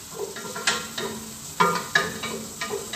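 Onion frying in a pan gives a soft sizzle under repeated scraping strokes of a spoon, several distinct stirring clatters in an uneven rhythm, close by.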